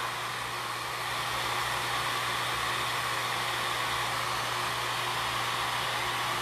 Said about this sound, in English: instead of the heat gun, this is what I use for my wave. So you're gonna use your blower and you're gonna blow it up.